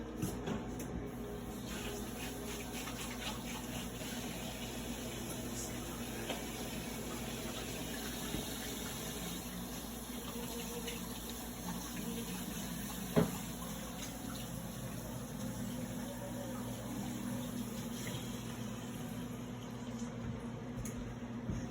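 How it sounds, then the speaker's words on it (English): Tap water runs steadily into a kitchen sink while hands are washed after making buttermilk biscuit dough, a constant moderate splashing hiss with a single sharp knock partway through. "Wash my hands."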